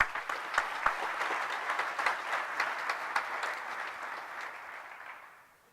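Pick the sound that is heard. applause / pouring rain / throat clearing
applause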